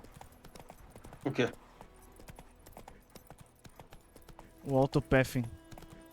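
Roach the horse's hooves clop in The Witcher 3. Two short bursts of rhythmic hoofbeats stand out over a low background, and a voice speaks in between.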